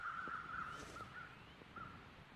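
Crows caw in a snowy wilderness setting in The Long Dark, a few short calls spread across the moment, mid-distance over a quiet ambient background.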